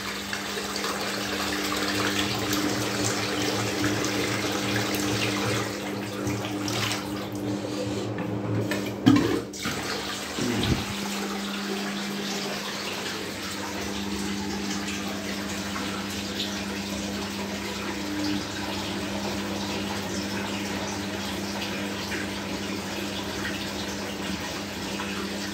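Water gushes steadily from a Logik washing machine being manually filled and flushed after a maintenance wash, a constant rushing flow with a pair of brief knocks partway through.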